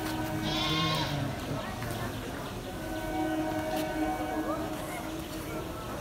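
Indian Railways local train on the Sealdah-Katwa route passing through Jadavpur station, a continuous rumble with horn-like tones and station noise, people talking throughout.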